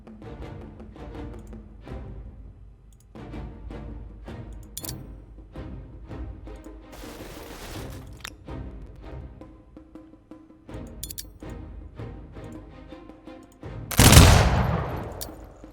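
Gunner units trade scattered volleys of gunfire in an Industrial Era battle in the strategy game Humankind, sharp cracks repeating irregularly at moderate distance, ending in a loud close blast.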